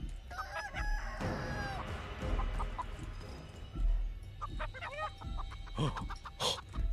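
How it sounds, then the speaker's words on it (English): A mother chicken in a video game clucks and squawks repeatedly in short bursts over a busy background of game sounds and noise, moderately loud and close. "Oh no, it's a mama chicken."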